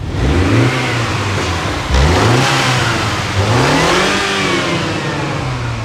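A car engine with a JCW exhaust and engine tuning revs repeatedly in loud, rising and falling bursts, close by and alone, with no talking over it.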